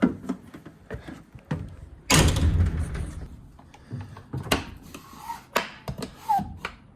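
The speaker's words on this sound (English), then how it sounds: "let me close the door." A custom-built front door on a skoolie bus is swung shut, a heavy metallic clunk and rattle followed by several smaller knocks, clicks and latch sounds close by.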